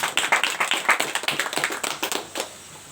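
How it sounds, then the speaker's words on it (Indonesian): A small group of people clapping at a youth discussion gathering, quick irregular claps up close that thin out and stop near the end. "Tepuk tangan untuk kita semua."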